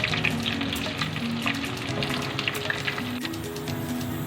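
Cumin seeds and whole garam masala spices sizzle in hot oil, a soft continuous crackle and hiss at low level, with faint scraping of a stirring spoon now and then.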